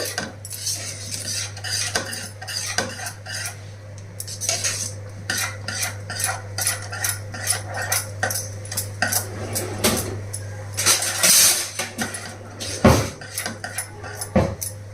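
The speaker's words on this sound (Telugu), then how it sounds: "తగ్గించేసి ఇంకా కలుపుతూనే ఉండాలన్నమాట. పిండి కొంచెం గట్టిపడేంత వరకు కలపాలి." A whisk stirs a rice and sago flour batter in a pot over a lowered flame, making continuous clinking, scraping metal strokes with an irregular rhythm, close and fairly loud, with no voices.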